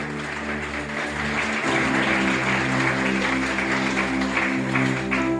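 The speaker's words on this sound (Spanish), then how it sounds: "Dele ese aplauso al Señor." A church congregation applauds during a Sunday service, a dense, steady wash of clapping that holds at even loudness throughout, with a sustained musical tone underneath.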